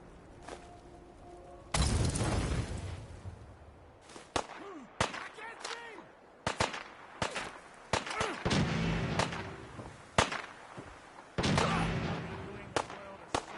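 Gunfire in Fallout 4 rings out as a burst of sharp, loud shots, irregularly spaced across the span, some singles and some longer sustained volleys, with a brief voice at the start.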